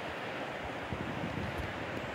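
River water flowing near a bridge on a March solo camping trip, a steady broadband rushing wash mixed with wind buffeting the microphone, constant and close with no voices.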